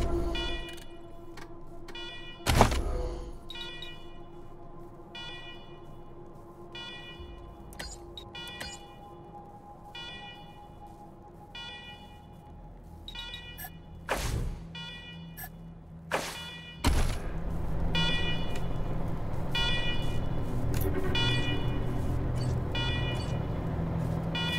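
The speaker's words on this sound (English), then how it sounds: "Alarm, I hate alarm." An alarm in the video game Wasteland 3 keeps sounding in a steady, repeating pattern of pulsed tones with a ticking rhythm, broken by a few sharp louder hits, and grows fuller toward the end.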